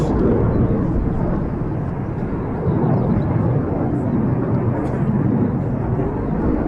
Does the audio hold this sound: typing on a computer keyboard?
no